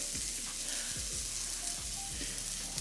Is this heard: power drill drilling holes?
no